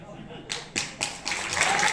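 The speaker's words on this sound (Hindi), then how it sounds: "ताली वाली मत बजाओ यार, कोई ताली नहीं बजाएगा" An audience at a motivational talk breaks into scattered claps, a few single sharp hand claps building into brief, denser applause while someone speaks over them.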